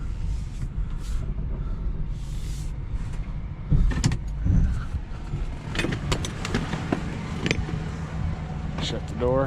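An old project car in Iowa winter rolls slowly after being put into gear, a low steady rumble with a few mechanical clunks and creaks, close by, while a person talks.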